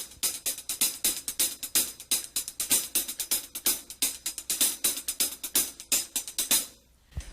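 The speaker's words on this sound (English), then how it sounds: "I'll play it on the hi-hat." Paradiddle sticking played on a hi-hat, a fast steady stream of crisp metallic ticks with accented strokes, close and fairly loud, alone with no voices.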